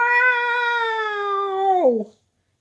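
A person imitates a long, drawn-out cat yowl, loud and close, holding a steady wail before bending downward and cutting off into silence.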